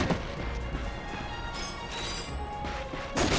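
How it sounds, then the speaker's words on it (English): Wooden crates in Ratchet & Clank (2016) are smashed, giving a cluster of crunching breaks and clattering debris over game music and effects, with a heavier crash right at the end. "Look at him smashing crates."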